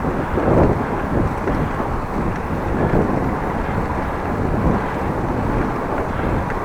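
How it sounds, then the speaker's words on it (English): Headwind buffets a microphone during a long countryside bike ride in Groningen, a steady, loud, broadband rumble that fills the whole stretch with gusty swells and no talk. "Little headwind, by the way."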